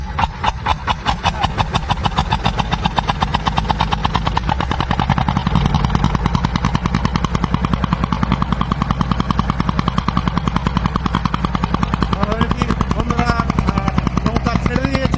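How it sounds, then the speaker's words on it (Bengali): A bhutbhuti country boat engine on a river starts up and settles into a loud, steady, rapid thumping chug that runs throughout, close by. "ভুটভুটি মেশিনটা দেখুন। এই ভাই একটু সহজ, দেখুন মেশিন স্টার্ট দিচ্ছে।"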